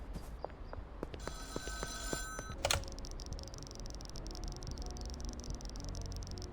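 A payphone rings in the video game Schedule 1, a bright electronic bell that trills for about two seconds and then cuts off with a short burst, over a steady low game ambience with no talking.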